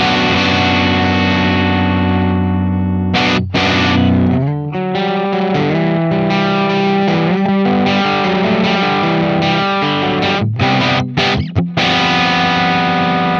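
Electric guitar through a Zander Circuitry distortion pedal with the tone control turned up, bright, crunchy distorted chords and riffs played loud and close, with short muted stops between phrases.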